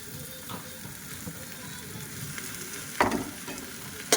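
Chopped potato and eggplant fry in a pan with a steady close sizzle, broken by a couple of sharp scraping knocks as the pieces are stirred.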